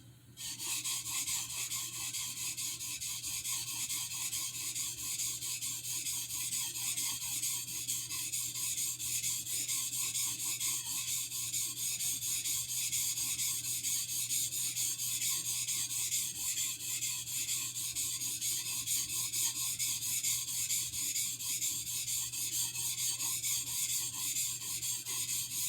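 A straight razor stroked back and forth across a cheap Amazon water stone, giving a steady, continuous wet rubbing and rasping that runs without a break and stays close and fairly loud.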